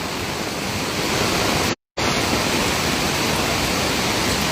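Floodwater surging over Layawan Bridge in Oroquieta City, a loud, continuous roaring rush of strong current that fills the whole span, broken only by a brief dropout.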